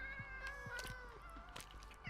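A cat in Minecraft meowing a few times, short soft mews over faint steady game background, quiet and unaccompanied by talk.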